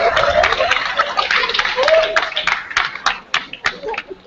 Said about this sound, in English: So I think good round of applause.